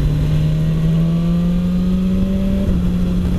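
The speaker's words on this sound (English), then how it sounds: "live with that when the engine makes so much noise" BMW S1000XR motorcycle engine while riding on a bumpy road, a loud, close, steady drone whose pitch climbs slowly, then dips briefly near the end as if shifting gear, with no voices.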